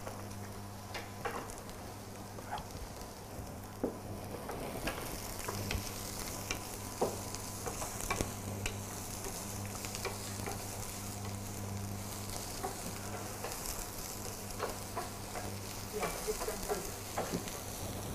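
Cabbage seasoned with salt and pepper frying in a pan, a steady soft sizzle running throughout with occasional stirring clicks and scrapes, fairly close and moderately loud, with no talking.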